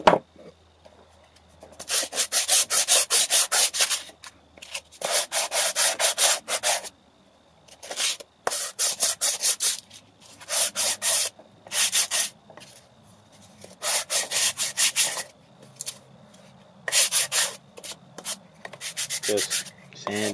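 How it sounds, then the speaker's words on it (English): Repeated rasping strokes of 120 to 150 grit sandpaper smoothing burrs on reclaimed wood, in bursts of rapid back-and-forth rubbing separated by short pauses, close and fairly loud. "Just smoothing out the burrs. It's 120, 150 grit sandpaper."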